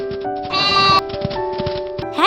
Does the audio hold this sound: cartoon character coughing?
no